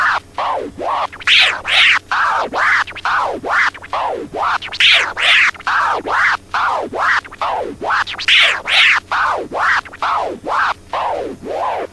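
Loud, rhythmic baby scratches on a DJ turntable, each back-and-forth stroke sliding from high to low in pitch, looping evenly without any voices.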